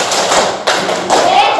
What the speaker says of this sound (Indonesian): Lima kali tepuk pramuka.